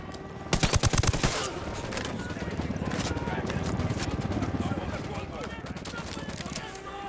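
Rapid automatic gunfire bursts loudly from the Ghost Recon Wildlands video game, followed by a dense mix of continuing shots, scraping and busy background action, with some talk underneath.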